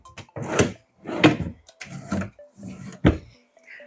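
Drawers in the wooden armrest of a Monarch sofa by WoodLine slide open and shut, giving several close, distinct bursts of wooden scraping and knocking with short pauses between them.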